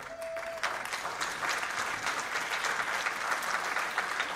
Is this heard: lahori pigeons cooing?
no